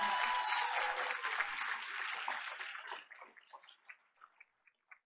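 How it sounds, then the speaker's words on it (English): Audience applause at a school board meeting, a dense burst of clapping that thins out over a few seconds into scattered individual claps before stopping. "Let's give them another round of applause."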